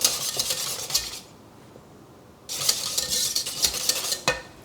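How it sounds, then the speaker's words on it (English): Whisk strokes scrape and clatter against a pan as custard thickens over low heat, a busy metallic rhythm that stops for about a second, then resumes with sharper clinks near the end. "over a low heat Whisk it until it thickens and comes back to the boil"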